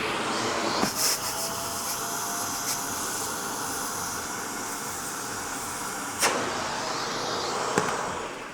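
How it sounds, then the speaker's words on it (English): A vacuum cleaner drones steadily and close throughout, sucking debris out of a gap in a floor, with a few brief knocks and clicks from the nozzle. "we do need to vacuum out this gap to make sure there's no debris stuck in there"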